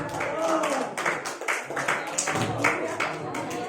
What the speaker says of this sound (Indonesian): Mari kita berikan tepuk tangan lagi sekali lagi untuk nomor undian 4.